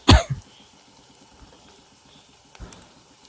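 One sharp cough right at the start, then a quiet background with a couple of faint knocks and rustles.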